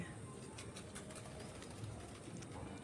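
Pigeons in a home pigeon collection, including a pair of Kaldam birds, give soft coos and brief wing flutters within a steady, busy ambient hum, with no talking.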